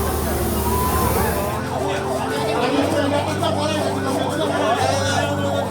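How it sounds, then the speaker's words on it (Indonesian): Ambulance sirens wailing at a road accident scene with many casualties, loud, close and continuous, cycling through rising and falling tones, with distressed voices and traffic underneath. "Banyak ambulan."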